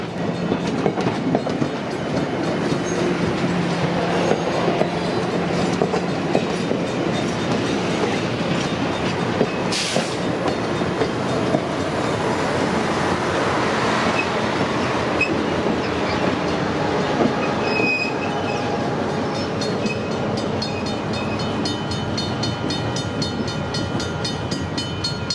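Morristown & Erie Polar Express train passing close by, with an MP15DC diesel locomotive in fresh paint at the rear; steady rolling rumble and clickety-clack of wagons over the rails lasts throughout, with no talk.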